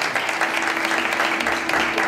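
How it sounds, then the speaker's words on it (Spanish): Brief, loud burst of dense audience applause at an Andalusian community event in Barcelona, steady clapping throughout with a faint hum underneath. "Un aplauso aquí a la andaluza del año."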